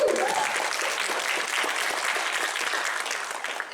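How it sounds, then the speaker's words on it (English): Convention audience applause at a Galaxycon fan Q&A panel, a large crowd clapping steadily and evenly for several seconds, moderately distant and fading slightly toward the end. "Round of applause for Angie."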